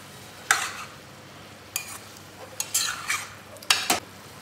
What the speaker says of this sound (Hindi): और थोड़ा सा रोस्ट करेंगे जिससे लहसुन का कच्चापन खत्म हो जाए